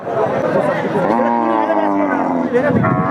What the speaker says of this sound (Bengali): দেখতে পাচ্ছেন বেচা বিক্রি চলতেছে